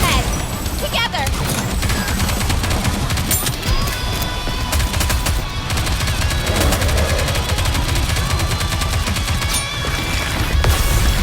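Sustained rapid gunfire fills a battle in NIKKE: Goddess of Victory, with dense machine-gun bursts and crackling shots over loud combat effects, and voices speak throughout.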